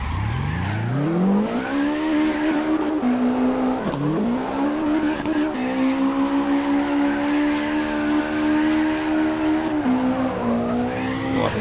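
A car drifting in CarX Drift Racing, with a long loud tire squeal over a revving engine that rises and dips as the slide goes on, heard alone without talk.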